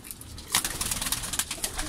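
High-flyer pigeons coo softly in a cage, with repeated low throaty calls and faint rustling close by.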